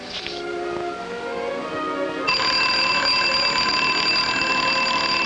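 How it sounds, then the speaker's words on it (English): An alarm clock rings with a sustained, bright electronic tone that starts partway through and stays loud to the end, after a jumble of softer tones. "But she got up when the alarm went off."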